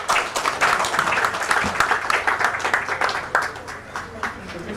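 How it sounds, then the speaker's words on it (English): An audience at an AI forum session claps in a steady, moderately loud round of applause that carries on throughout, with some voices faintly mixed in. "Another round of applause for us."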